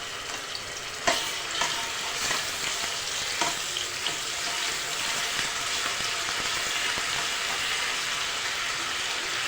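Ginger garlic paste and fenugreek seeds fry in hot oil with a continuous, fairly soft sizzle, broken by a few sharp spits and pops in the first few seconds, and no voices.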